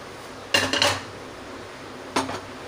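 A metal kadai (wok) is set down on a kitchen stove with two sharp clanks, then a brief scrape, close and alone.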